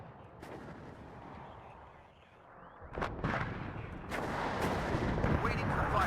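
Counter-battery artillery fire in the WARNO wargame, several booming shots and impacts arriving in a cluster, moderately loud over a low battle rumble.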